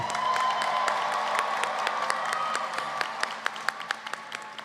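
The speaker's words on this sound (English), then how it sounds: "can we give those graduates a round of applause?" Sustained applause from a large commencement audience honoring graduates at the Lincoln University ceremony, dense steady clapping with scattered whoops, thinning toward the end as a few louder individual claps stand out.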